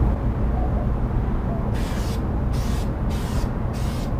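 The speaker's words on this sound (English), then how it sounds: "Come back, you're going to go ahead and do your clear coating." Clear coat spraying onto a Camaro hood, heard as four steady hissing bursts from a spray gun in the second half, each about half a second long with short pauses between, over a constant low background rumble.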